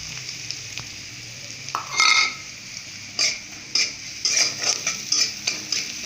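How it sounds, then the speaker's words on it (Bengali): Garlic paste frying in a pan for a koi fish curry, a faint background sizzle broken by repeated sharp metallic scrapes and clinks of a spatula against the pan. "রসুন পেস্টটাকে ভেজে নিই"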